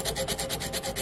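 Hand sanding of a cast aluminum spoon with a small piece of sandpaper gives a close, rhythmic back-and-forth rasping, about eight quick strokes in a second, with no voices.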